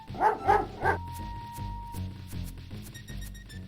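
A dog barks three times in quick succession in the King's Quest V computer game, followed by chiptune-style game music playing on without voices.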